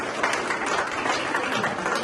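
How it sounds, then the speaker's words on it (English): An audience claps for school staff at a preschool campus event, producing steady, dense applause throughout. "Give them a big round of applause"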